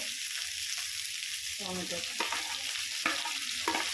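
Tomato goes into a pan of frying spring onion stalks, giving a steady close sizzle throughout with a few brief stirring clatters and crackles over it.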